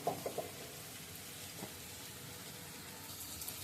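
Onion and spice masala frying in oil, a faint steady sizzle with a few soft clinks and stirring taps near the start, quiet and continuous throughout.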